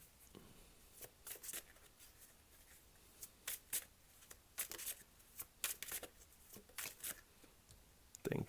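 Tarot cards are drawn and shuffled from a deck, giving soft, close papery flicks and snaps in irregular clusters, fairly quiet, with a sharper burst at the end.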